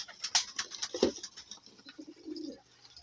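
Pigeons kept by a fancier coo softly while feeding, low throaty coos rising in the second half of the clip, with scattered patter and brief higher calls from the birds nearby.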